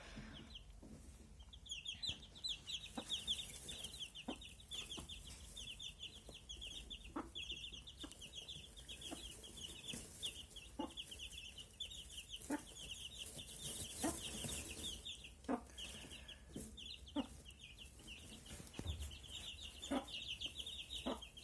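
Soft, low clucks from a broody hen tending her naturally hatched chicks repeat intermittently at close range, with chicks peeping and faint rustling throughout.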